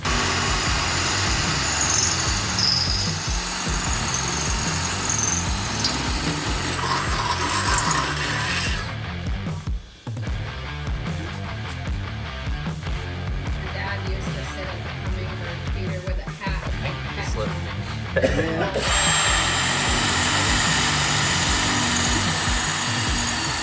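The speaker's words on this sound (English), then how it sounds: "So we keep having to drill these out because that bolt won't slide all the way" A power drill bores out bolt holes for mounting a pod light, a loud continuous whirring and grinding that runs nearly the whole time with brief pauses and tool clatter, close to the listener.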